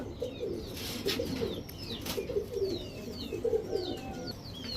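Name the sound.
pigeons cooing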